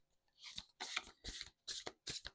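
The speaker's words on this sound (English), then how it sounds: "I didn't get to shuffle yet, so I'm actually taking all those back." Tarot and oracle cards shuffled by hand in five quick riffling bursts with short pauses between, close and crisp, with no talking over them.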